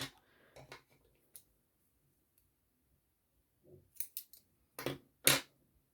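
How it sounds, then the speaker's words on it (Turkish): Scissors snipping yarn during crochet work on a baby blanket, a few quick crisp clicks near and clear, separated by quiet gaps. "Bir zincir ipimi keseceğim."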